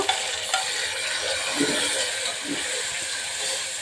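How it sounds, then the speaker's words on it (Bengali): Chopped tomatoes fry in hot oil with onions and garlic for a mutton curry, giving a steady close sizzle with faint stirring scrapes throughout, no voices. "টমেটো তেলের সাথে কষানো হয়ে গেছে"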